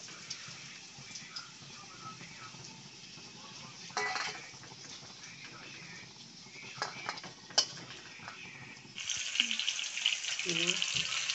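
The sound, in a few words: fish frying in oil in a wok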